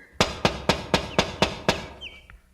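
Seven sharp, evenly spaced knocks strike a wicket gate in a steady rhythm, close and clear, with the last one fading into quiet.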